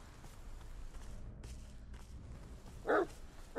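A dog in the horror video game The Medium gives one short, loud bark near the end, after a stretch of quiet ambient game sound and faint footsteps.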